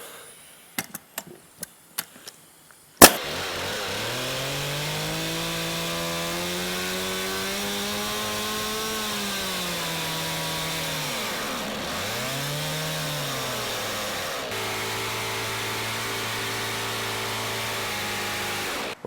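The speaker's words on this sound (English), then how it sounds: "I can see no chainsaw is going to be cutting through that." After a few sharp knocks, a chainsaw roars to life and runs close and loud for about sixteen seconds, bogging down and recovering as it bites into a steel toe boot, with no talking.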